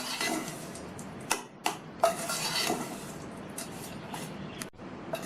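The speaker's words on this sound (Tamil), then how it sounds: "இப்போ எல்லாத்தையும் நல்லா ஒன்றா மிக்ஸ் பண்ணி விட்டுறலாம்." Ragi puttu ingredients are stirred in a bowl nearby: soft scraping with a few sharp clinks of a utensil against the dish.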